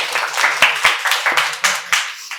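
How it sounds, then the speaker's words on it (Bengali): Crowd applause for a correct answer at a quiz competition held at a medical college and hospital in Santiniketan: dense, steady clapping from many hands with sharper individual claps on top. "তার জন্য একটা জোরে হাততালি"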